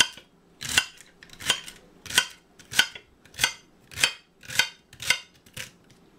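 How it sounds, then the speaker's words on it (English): Knife slicing food into tiny pieces for chicken soup on a cutting board: nine crisp, evenly spaced cuts, close and fairly loud, with no talking. "So you just want to cut little tiny slices."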